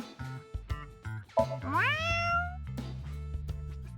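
A man imitates a cat's meow aimed at a lucky cat statue, a single rising, drawn-out nasal meow in the middle, set between short bursts of talk and background music.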